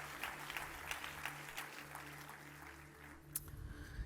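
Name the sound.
audience clapping hands to thank the Lord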